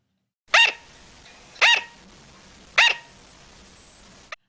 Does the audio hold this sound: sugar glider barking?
yes